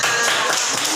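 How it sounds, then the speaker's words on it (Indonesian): A brief, dense burst of clapping from a class group, loud and close, lasting about a second with no talking over it. "Tepuk tangan untuk kelompok 2."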